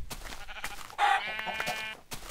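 A sheep in the video game Minecraft lets out a single drawn-out, wavering bleat in the middle of the clip, close and clear over faint background sounds.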